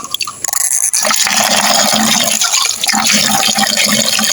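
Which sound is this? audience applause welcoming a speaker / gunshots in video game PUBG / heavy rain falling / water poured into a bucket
water poured into a bucket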